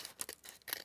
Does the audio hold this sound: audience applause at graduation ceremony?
no